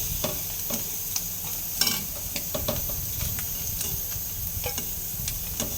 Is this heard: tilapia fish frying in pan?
yes